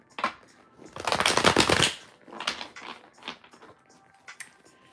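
A deck of playing cards being shuffled, with a long riffle burst and several shorter crisp shuffling rustles following, close and fairly loud, no talking.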